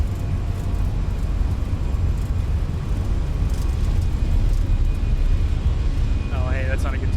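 Steady, loud roar of a Fenix airliner's jet engines on takeoff roll in Microsoft Flight Simulator 2024, a continuous low rumble with a faint high whine, while someone talks over it near the end.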